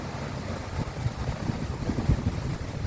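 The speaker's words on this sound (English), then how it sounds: "We got a crazy windy day here. It's just blowing like nuts." Strong wind blows outdoors on a gusty day near flagpoles, a low, rushing roar buffeting the microphone with uneven gusts and no voices.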